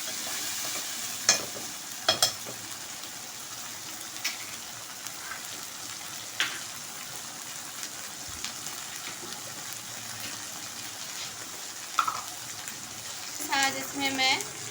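Onions fry in a pan as ginger garlic paste is stirred in for an arvi curry, a soft continuous sizzle with occasional spoon scrapes and clinks, fairly quiet and close.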